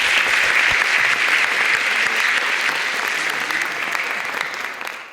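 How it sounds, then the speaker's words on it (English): Panel audience at a climate change event gives a sustained round of clapping, dense and steady throughout and tapering slightly at the end. "please join me in a round of applause for our panelists"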